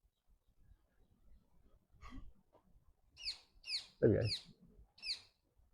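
A few sharp, high squawking calls from parrots, repeated in quick succession nearby, with a brief spoken voice in between.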